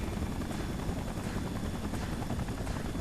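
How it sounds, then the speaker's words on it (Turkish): Helicopter in the Spider-Man 3 video game, a steady broadband rotor roar with faint regular chopping, holding constant and fairly loud for the whole stretch with no talk over it. "Helikopter mi geldi?"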